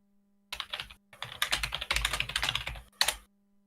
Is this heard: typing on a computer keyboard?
yes